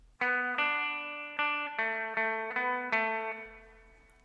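A slow run-through of a riff on electric guitar: about seven clean, single picked notes, each ringing out with a slight effect shimmer before the next, the final note decaying alone.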